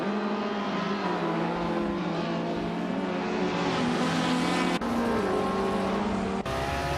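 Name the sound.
2010 SEAT Leon TDI race car driving on track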